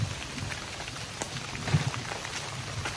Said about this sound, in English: Of course it started to rain right when I got ready to